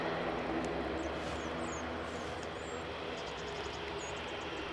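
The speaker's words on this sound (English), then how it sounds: "bizjet is on its way out, the Dassault 7X" A Dassault Falcon 7X business jet departing an airport, a steady distant engine roar held at moderate level throughout, with faint birdsong chirps above it.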